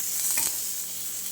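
Anjali fish frying on a tawa, a steady close hissing sizzle with a faint scrape of a utensil early on, no talking.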